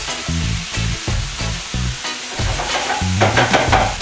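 Pork sizzles in a hot pan with a bright, steady hiss, while regular knocking and scraping strokes of a utensil stir the meat up close, with no talking.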